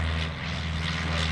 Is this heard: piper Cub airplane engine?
yes